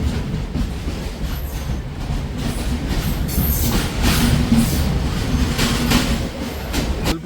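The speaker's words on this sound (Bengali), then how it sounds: "ওই লাইন দিয়ে থ্রু বেরোচ্ছে সরাইঘাট এক্সপ্রেস।" The Saraighat Express runs through on the adjacent line, a loud continuous rumble of wheels with rhythmic clickety-clack, heard close alongside with no talking.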